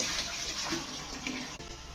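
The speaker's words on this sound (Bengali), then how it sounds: "এই যে ইলিশ মাছটাকে আমি ভালো করে কেটে নিয়েছি এখন ধুয়ে দিব" Cut pieces of hilsa fish rinsed under steadily running water, a continuous close splashing wash with no talk over it.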